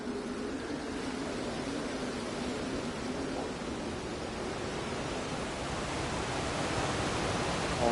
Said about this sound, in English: More waterfalls, waterfall. There's a lot of waterfalls